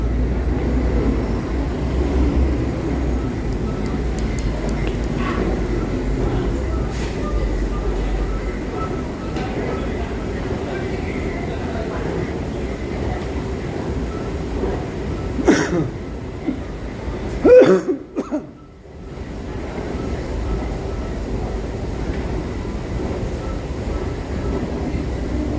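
Subway train sounds in a Korean metro setting: a steady low rumble fills the whole stretch, with a louder burst of clatter near the end before it drops away, and a cough or throat clearing breaks in once.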